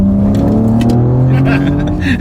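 BMW G80 M3 Competition, roughly 700 horsepower, accelerating on a back road, a loud sustained engine drone rising in pitch from inside the car, with brief faint voices.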